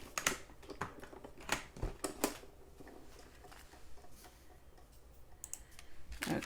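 Paper is trimmed around a gift bag, giving a quiet series of crisp, irregular snips and clicks with brief gaps between cuts.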